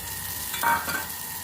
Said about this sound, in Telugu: ఫస్ట్ ఆయిల్ కడాయి పెట్టుకొని ఆయిల్ వేసుకోవాలి. ఆయిల్ వేసుకొని ఆనియన్స్ వేస్తున్నాను.